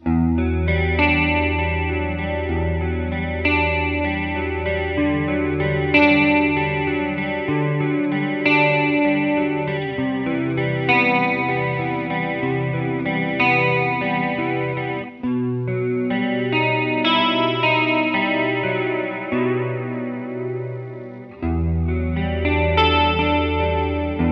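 Parker Nitefly M electric guitar heavily processed with distortion and chorus, sustained chords and ringing melodic lines played continuously and loud, no voices.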